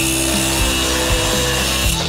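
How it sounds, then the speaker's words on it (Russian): An angle grinder cuts short pieces of steel rebar for a concrete balcony build, giving a loud, continuous, close-up whine with a harsh metallic hiss that holds steady for about two seconds, with no talking over it. "И сейчас болгаркой просто их отпилю"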